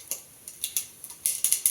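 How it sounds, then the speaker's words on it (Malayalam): Mustard seeds popping in hot coconut oil in a pan, a few scattered light ticks and crackles, close and faint, with a quicker flurry of pops near the end and no talking. "അപ്പോൾ കടുകൊക്കെ പൊട്ടി"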